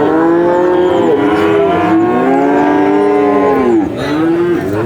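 Cattle at the Pon cattle market in Purwokerto moo in a long, loud, drawn-out series of calls close by, with a faint crowd murmur behind.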